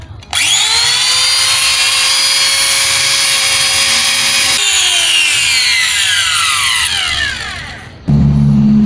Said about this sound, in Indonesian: bersihkan pakai gerinda.